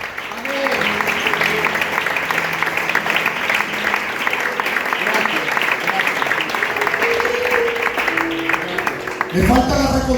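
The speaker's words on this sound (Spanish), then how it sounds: "¿Cuántos me dan un aplauso?" A church congregation applauds during a Holy Communion service, sustained even clapping filling the room for several seconds before a voice and a brief louder sound break in at the end.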